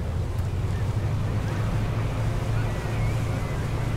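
A fishing boat's engine in a video game eases down as the throttle is reduced, a steady low drone under wind and water wash, continuous and fairly loud throughout.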